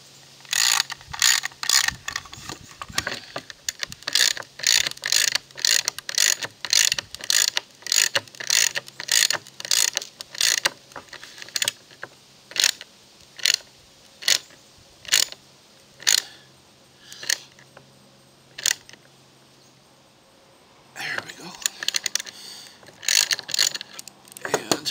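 Ratchet wrench tightening a 1-inch bolt with a fender washer on a model railway module, a long run of sharp repeated clicking strokes in uneven rhythm with a brief pause near the end before more quick clicks.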